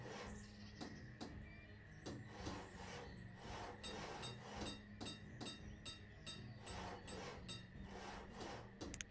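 Villagers in the city-building game Banished work on buildings, giving a steady run of faint, scattered hammer taps and rasping saw strokes against a soft ambient bed.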